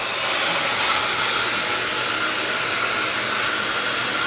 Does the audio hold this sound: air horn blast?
no